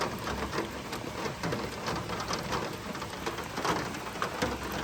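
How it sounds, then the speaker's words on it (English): Steady rain patters on a surface, a soft, even wash of drops with scattered louder taps, fairly quiet and without voices. "It's starting to rain pretty good."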